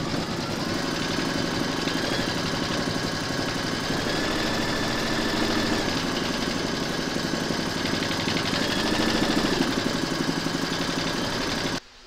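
Embroidery machine stitching an applique placement round to secure fabric layers to the hoop, a steady close mechanical whir with a fast even needle rhythm and a faint tonal hum running unbroken until a sudden stop at the end.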